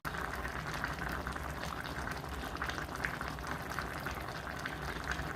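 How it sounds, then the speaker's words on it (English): A pot of ratatouille simmers, giving a steady dense bubbling and sizzling hiss that holds even and close throughout with no voices. "And now begins the simmer."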